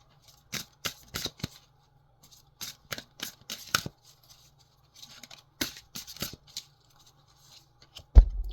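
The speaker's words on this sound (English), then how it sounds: "I'm just going to shuffle a little bit more here to warm them up" Oracle cards being shuffled by hand in short riffling bursts, with quiet gaps between them, close up, ending in a soft thump.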